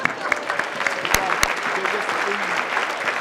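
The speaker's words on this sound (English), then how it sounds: "One more round of applause for our chorus." An audience at a university scholarship reception applauds a chorus, a moderate steady clapping with a couple of sharp close claps standing out and some murmuring under it.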